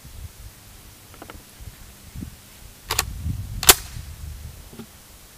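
Two sharp, fairly distant reports from an MSAR STG-556 rifle crack about a second apart over faint outdoor rustling and handling noise.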